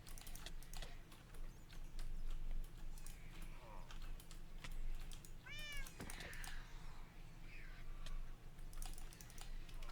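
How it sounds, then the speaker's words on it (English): A cat meows in the Minecraft modpack FTB Interactions, a short run of rising and falling mews over steady computer keyboard typing and clicking, with a faint bit of game ambience. "Oh, there's a cat."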